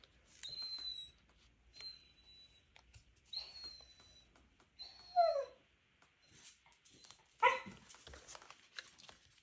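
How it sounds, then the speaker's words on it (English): A pet dog whimpers and whines in repeated high, thin cries, several short rising and falling whines spread across the span with pauses between, fairly close and alone without talk. "Sorry about Hugo, my dog."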